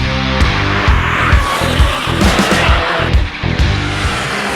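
A Toyota GR Yaris is pushed hard around a race track, engine roaring loud and near while tires squeal and scrub through the corners, with pitch rising and falling on each shift.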